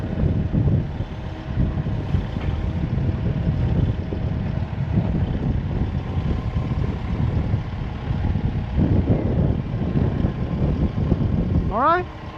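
Gusty wind buffets the microphone outdoors in a steady broadband rush, with a low engine-like drone beneath and a brief rising whine near the end.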